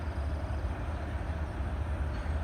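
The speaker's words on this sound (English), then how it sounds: "I don't know how long this train is, but it'll be cool if we can get a DPU on here." A long freight train rolls past, giving a steady low rumble and rolling clatter at moderate distance that holds even and unbroken, with no voices over it.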